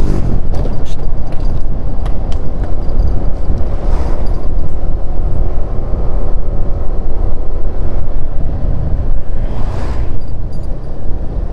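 Automatic motor scooter accelerating on a rough, potholed mountain road between Kampak and Munjungan in East Java, a loud continuous engine drone mixed with heavy wind buffeting on the microphone and occasional rattles, with no speech.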